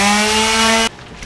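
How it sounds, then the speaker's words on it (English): A power sander whines loudly on wooden bed panels for a van conversion, a steady close tonal drone that cuts off abruptly, leaving near silence. "I'm going to sand them down before I put them in"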